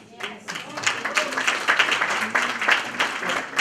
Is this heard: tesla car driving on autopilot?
no